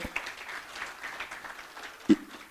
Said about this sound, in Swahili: Makofi kwake.